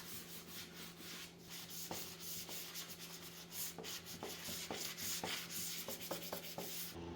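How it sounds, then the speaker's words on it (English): A 400 grit sanding sponge rubs back and forth over a chalk-painted wooden table, a soft, close scratchy hiss with repeated strokes in an uneven rhythm, quiet and without talk. "I come back with a 400 grit sanding sponge and go over the entire piece to make sure that chalk paint is smooth like butter."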